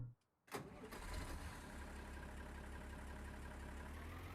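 A tractor in the Farming Simulator 19 video game cranks and fires after a brief silence, then settles into a steady, loud, rumbling idle.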